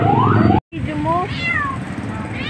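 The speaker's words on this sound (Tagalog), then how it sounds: "dala namin yung pusa pa" A cat meows repeatedly, rising and falling cries over a busy background with rumbling noise and a brief cut of silence.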